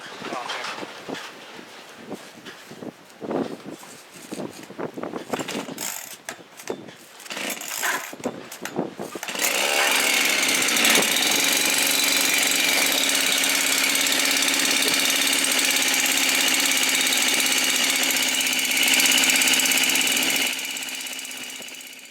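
A Farmertec Holzfforma G372xp chainsaw, built with a 268 pop-up piston, starts on a cold, windy day: a few rough pulls and sputters, then the engine catches and runs steadily and loudly up close for about ten seconds before easing off.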